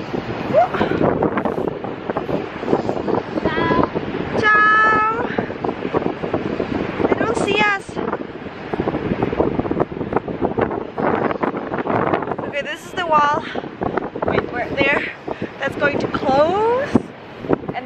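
Strong, cold wind buffets the microphone in a steady roar at a ship's dry dock, with people talking loudly over it throughout.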